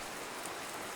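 Steady rain falling outdoors, a dense even hiss with no breaks, continuous and moderately loud.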